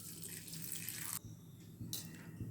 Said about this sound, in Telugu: కొంచెం వాటర్ పోసుకోవాలండి.